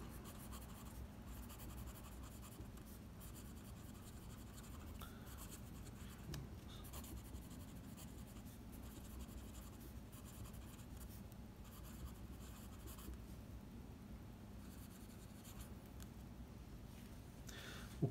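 A Pierre Cardin Identity fountain pen with a broad nib, around 0.6 mm, and stock Pierre Cardin ink writing on paper, giving a faint, steady scratching rustle that runs without a break and is heard alone.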